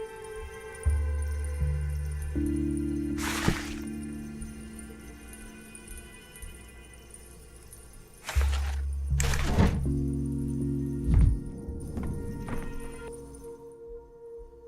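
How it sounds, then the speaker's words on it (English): Deep, booming thuds of cannon fire in the video game Pathologic 3, a few heavy blasts with low sustained rumbles between them. "I hear the thunder of cannons."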